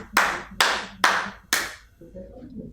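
Four loud, sharp hand claps, evenly spaced about half a second apart, given as a signal in a primary-school physical education counting game, followed by a brief soft murmur of voices.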